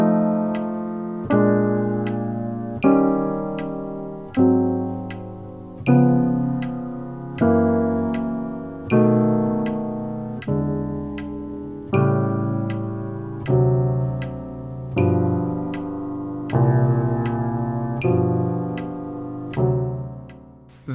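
Jazz piano shell chords sound as a steady sequence of sustained chords, each struck on the beat and left to ring, with a soft metronome ticking throughout, close and clear with no voice.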